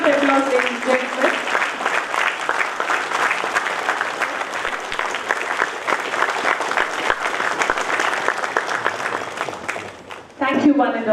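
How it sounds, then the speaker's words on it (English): A large audience at a bank's founders' day ceremony in Mangaluru breaks into sustained, dense applause that fills the room, with a voice speaking briefly at the start and again as the clapping fades at the end. "A huge round of applause, ladies and gentlemen."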